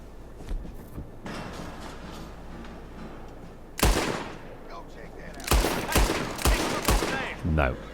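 Gunfire in Red Dead Redemption 2, a few sharp loud shots followed later by a rapid cluster of bangs, with quieter game ambience and a voice between them.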